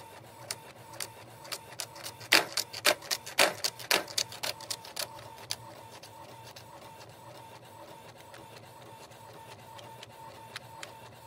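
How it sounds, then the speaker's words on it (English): A home printer feeds tissue paper through, giving a burst of sharp mechanical clicks and clacks in the first few seconds, then a softer steady whir with occasional ticks, close and moderately loud. "You can see it's printing."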